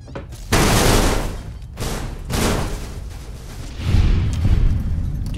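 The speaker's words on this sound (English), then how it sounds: "Firing weapon." Gunfire in Fallout New Vegas: several heavy booming shots in separate bursts, loud and close, each trailing off into a rumbling decay.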